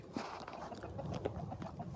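Free-roaming chickens clucking softly in scattered short calls, faint and fairly close, with low background noise.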